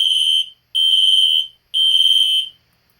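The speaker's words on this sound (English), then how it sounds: "The alarm sounds like it's doing full wave rectifier" A fire alarm sounds during a system test, giving three loud, close, shrill electronic tone bursts in a regular on-off pattern, each with a pulsing buzz and short silent gaps between them.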